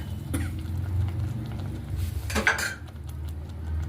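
Cooked toor dal and tomato being mashed in a metal pot for bendekayi sambar, with soft scraping and clinks of a utensil against the pot, one sharper clatter midway, close and fairly quiet.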